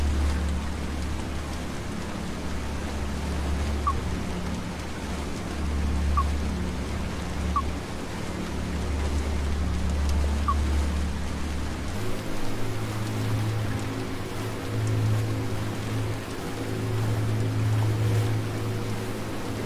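Boat engine in the Schiff-Simulator: Die Seenotretter rescue-boat game, a steady low drone that shifts to a heavier, deeper throttle-up partway through, mixed with continuous water wash and spray.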